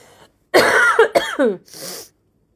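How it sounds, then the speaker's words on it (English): A few rough, throaty coughs close to the mic, two quick bursts and then a softer one, each separated by short pauses. "Sorry, I need to cough."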